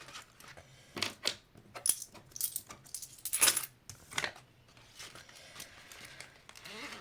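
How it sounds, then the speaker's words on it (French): Small coins being handled and dropped into a savings envelope, a scattered series of close, light metallic clinks and taps with quiet pauses between them. "On va mettre les petits sous dans l'enveloppe."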